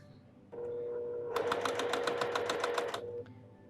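A sewing machine motor whirs up, then runs a quick series of about a dozen evenly spaced stitches while piecing a baby quilt, close and steady before winding down.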